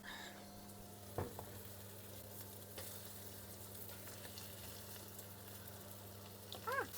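Steady, quiet sizzle of meat frying in a pot for plov, a continuous crackle with a few soft clinks and a brief scrape near the end.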